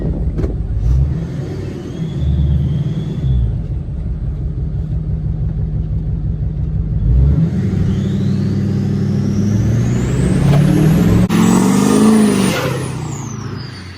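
A Duramax diesel pickup truck accelerates up close, its deep engine drone rising through revs in several surges, with whining turbo and whistle tones over the rumble and a sharp click partway through.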